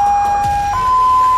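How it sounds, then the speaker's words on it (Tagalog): A loud ambulance siren arriving at the scene of an electrocution accident at a scout jamboree blares close by, its steady tone stepping abruptly to a higher pitch midway. "Kalaunan, may dumating naman daw na ambulansya."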